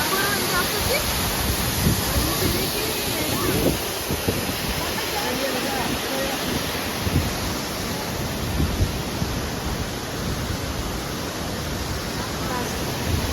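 A waterfall roars in a broad, steady rush of falling water, loud and continuous with no pauses, dominating the whole scene.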